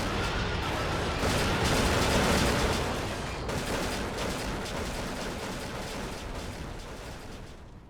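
Mk 108 cannon fire from a Bf 109 G-6 in a flight game comes as loud, dense rapid thumping bursts over a roaring engine drone, gradually easing in intensity toward the end.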